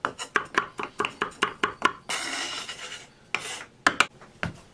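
A knife chops through a fresh jalapeno on a cutting board, cutting away the stem and seeds: a quick, even run of crisp taps, then a longer rasping scrape, and a few more sharp cuts. No one speaks.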